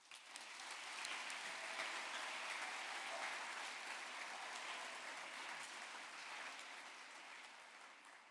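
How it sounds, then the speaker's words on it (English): Distant, faint audience applause at an environmental education competition event rolls on as an even, continuous wash of many hands clapping, with no voices standing out. "I want to give you guys a round of applause."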